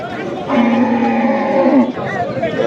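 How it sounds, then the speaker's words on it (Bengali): A black Sahiwal bull lets out one long, deep, loud moo close by, lasting over a second, amid the background murmur of a busy cattle market crowd. "আমাদের সামনে কালো রঙের যে ষাঁড়টি রয়েছে শাহিওয়াল ষাঁড়, খুব সুন্দর ষাঁড়।"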